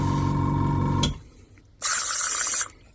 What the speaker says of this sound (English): And then we'll spray it out.